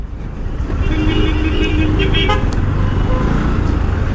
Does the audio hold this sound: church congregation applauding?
no